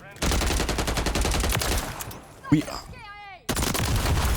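Gunfire and explosive launcher shots in a Modern Warfare 3 match, dense rapid bursts filling most of the clip with a sharp blast near the middle, followed by a brief quieter stretch before the firing resumes loudly.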